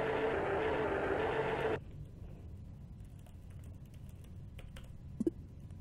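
Quick typing on a computer keyboard for a little under two seconds, dense and close, then it stops, leaving a faint hum with a few small clicks.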